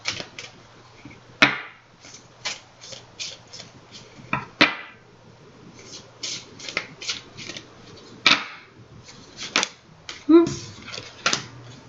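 Tarot cards are shuffled by hand in several separate bursts of crisp riffling and slapping, close and fairly loud between quieter pauses, with a low steady hum underneath.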